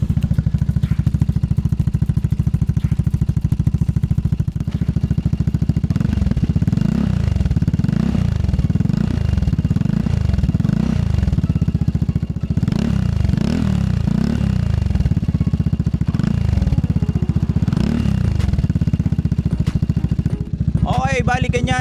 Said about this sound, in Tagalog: ganito yung tunog niya pag naka-idle